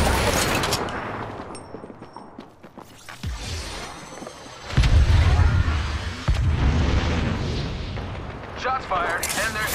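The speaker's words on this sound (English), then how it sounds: "Shots fired, and they're hitting me." Gunfire and heavy impact bursts in the battle royale video game Apex Legends, loud and uneven, with several booming blasts partway through and voices talking between the shots.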